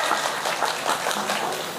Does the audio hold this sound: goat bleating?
no